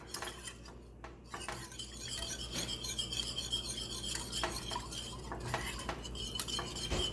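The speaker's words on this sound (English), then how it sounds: "So we're gonna keep stirring" Lemon meringue pie filling stirred in a pot, a utensil scraping and clinking against the metal with steady rhythmic strokes, close and continuous with no talking.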